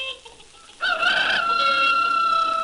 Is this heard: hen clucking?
yes